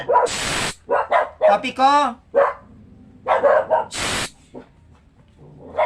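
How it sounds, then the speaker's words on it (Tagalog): Dogs bark at someone passing by, several sharp barks and yips in bursts, heard close and loud amid a person speaking. "yung mga aso ko po, may tao kasing dumadaan"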